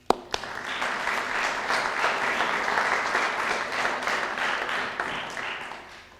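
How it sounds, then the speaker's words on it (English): An audience at a distinguished alumni banquet gives a warm round of applause for an honoree, starting with a sharp clap, holding steady and tapering off at the end. "Please help us welcome David with a round of applause"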